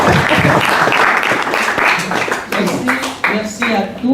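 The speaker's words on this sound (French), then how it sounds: "Madame Gaye, applaudissons pour elle parce qu'elle est très bâtie." An audience applauds at a formal presentation: steady, dense clapping fills the room, loud and continuous, with a voice speaking over it toward the end.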